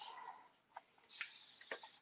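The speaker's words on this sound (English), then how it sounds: "So I'm going to spray that a little bit." A spray paint can hisses briefly at the start, then a longer steady spray follows with a few light clicks, fairly quiet and close.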